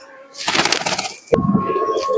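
Pigeons at a Bengali pigeon sale coo and rustle in a short burst nearby, with a sharp flap or knock partway through and soft murmuring coos after it.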